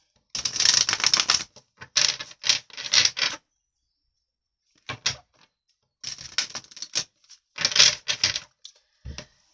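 Oracle cards are shuffled and handled in short, dry riffling bursts close by, with several rapid flurries separated by quiet pauses.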